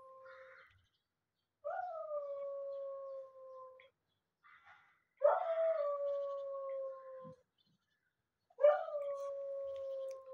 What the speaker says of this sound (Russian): Собака воет.